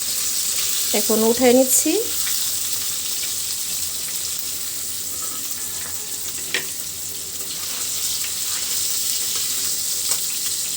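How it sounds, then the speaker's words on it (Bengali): Fish sizzles in hot oil in a pan, a steady close frying hiss running throughout, with a brief spoken line near the start and a few small clinks. "একদম লাল লাল করে ভাজি করে নেব। মাছটা কিন্তু ভাজি হয়ে গেছে, গোল্ডেন ব্রাউন কালার হয়ে গেছে কিন্তু।"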